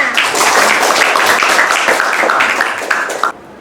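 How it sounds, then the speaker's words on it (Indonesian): A classroom audience at an office-management exam session gives a short burst of lively applause, many hands clapping close and loud for about three seconds before stopping abruptly. "Beri tepuk tangannya."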